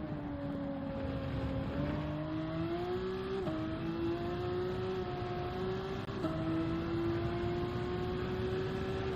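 A Pagani Zonda in the Gran Turismo 7 racing game gives a steady, droning engine note that rises slightly and drops back at gear changes through a corner, continuous and moderately loud, with no talking.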